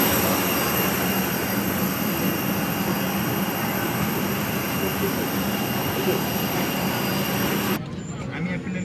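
Jet engines of an airliner climbing out just after leaving the runway at Kathmandu, heard from inside the cabin as a steady loud roar that cuts off abruptly near the end, with a voice speaking over it.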